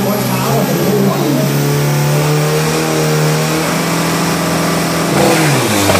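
An Isuzu car's turbocharged engine revs loudly and continuously, its pitch climbing and falling over a steady engine drone, with a final rise toward the end and people speaking over it.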